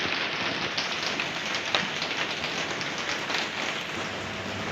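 Steady morning rain falls without letup, a dense even hiss of drops on surfaces with occasional closer taps, moderately loud and with no voices.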